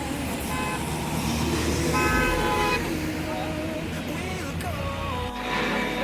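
A truck comes along Khammam bypass road with its horn tooting several times over a steady engine rumble and traffic noise, while people talk close by.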